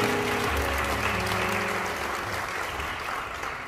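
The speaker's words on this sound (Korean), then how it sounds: "큰 박수 부탁드립니다." Wedding guests in a banquet hall clap warmly, loud dense applause from a crowd, with a brief musical tone underneath at the start before the clapping carries on steadily alone.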